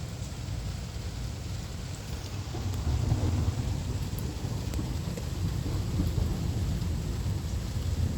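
Steady rain pours through a severe summer thunderstorm in La Porte, Indiana, with a low rumble of thunder swelling midway and the downpour continuing as a dense, constant wash.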